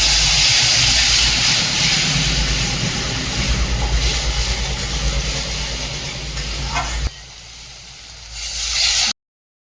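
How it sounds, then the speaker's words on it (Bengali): Fish curry gravy boiling hard in a pan, a loud continuous hissing bubble that suddenly drops away near the end, leaving a brief quieter moment before cutting out. "ঝোলটা ফুটে গেছে"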